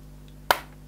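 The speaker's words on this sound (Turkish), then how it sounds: "Duyduğunuz bu sesler menteşe yuvasından geliyor." A single sharp crack sounds as a laptop lid opens, coming from a damaged hinge socket with overtightened hinge screws; it is brief and fairly close over a low steady hum, with a faint tick just before and after.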